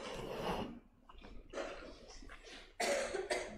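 Several coughs and throaty bursts come in quick succession, close and moderately loud, with brief pauses between them.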